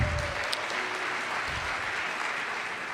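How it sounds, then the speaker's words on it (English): Audience applause at an evening program, even sustained clapping from a sizable crowd lasting a few seconds, with a faint low rumble beneath it. "yes, round of applause"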